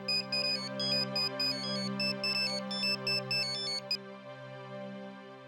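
A mobile phone plays a melodic electronic ringtone close by, its bright repeating tune running steadily for about four seconds over a sustained drone before the melody cuts off.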